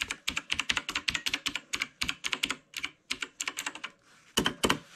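A KLIM computer keyboard is typed on in quick, crisp bursts of key clicks, close and clear, with a short pause before a final couple of keystrokes.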